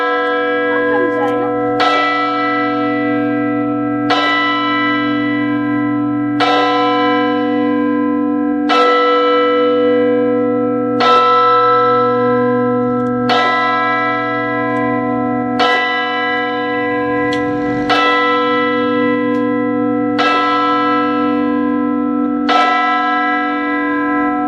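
Church bells of the Duomo di San Rocco in Dolo, near Venice, ring from a tower of eight bells, a loud close bell strike repeating roughly every two seconds over a sustained, humming ring.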